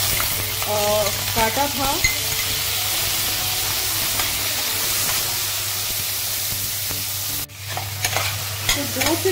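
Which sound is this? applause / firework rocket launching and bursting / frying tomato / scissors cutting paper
frying tomato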